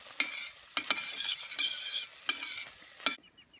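Butter and thyme leaves sizzle in a pan with blusher mushrooms, a close, steady frying hiss broken by several sharp spatula scrapes and stirs before the sizzle cuts off near the end.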